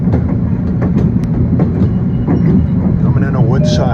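A Long Island Rail Road commuter train rides the rails between Penn Station and Jamaica, a loud, close rumble with rhythmic clickety-clack of wheels over rail joints and a rising squeal of wheels toward the end.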